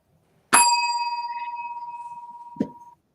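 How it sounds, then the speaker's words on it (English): A single bell is struck once, loud and close, then rings on in a long, steady, slowly pulsing tone; near the end a second, softer strike sounds just before the ring fades out. "And so the bell rang."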